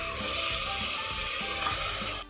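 Mutton pieces hit hot oil with fried onions, setting off a loud, steady sizzle close by, with faint stirring sounds and a short knock at the end.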